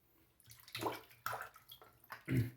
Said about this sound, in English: I got the Boar brush here, underwater, shake it off a couple times